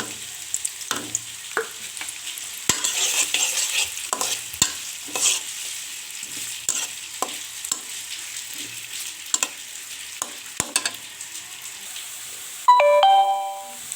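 Chopped onions frying in a pan while being stirred, close sizzling with repeated sharp scrapes and clinks of the spatula at irregular intervals, and a short ringing tone near the end.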